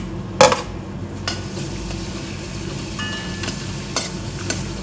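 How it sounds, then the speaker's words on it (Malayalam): Grated garlic, green chili and ginger frying in hot oil, a soft steady sizzle with a sharp clatter at the start and light utensil taps as it is stirred. "ചൂടായ എണ്ണയിലോട്ട് കുറച്ച് വെളുത്തുള്ളി ഇടുന്നു"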